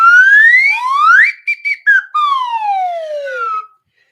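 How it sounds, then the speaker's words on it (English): A slide whistle plays close and loud, sweeping up in pitch, stuttering in a few short bursts, then gliding steadily back down before stopping. "Let me see my slide whistle."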